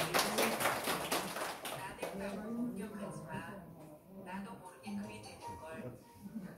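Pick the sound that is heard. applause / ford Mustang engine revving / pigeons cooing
applause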